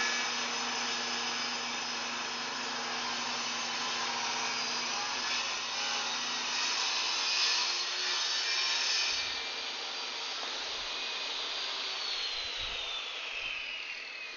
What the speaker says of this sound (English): You guys have never seen a lathe work?